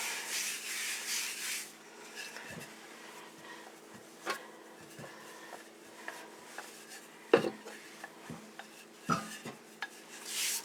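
A rolling pin works pie crust dough on a floured surface, soft repeated rubbing strokes with faint knocks, quiet and close, no voices.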